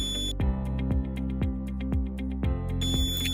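A door alarm buzzer driven by a photodiode light sensor sounds in a fast series of sharp electronic pulses, about two per second, loud and close with a steady tone running underneath.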